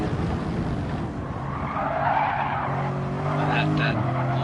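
A Porsche race car in a racing video game drives with its engine droning steadily while its tyres skid and squeal through a corner, and a commentator talks over the sound.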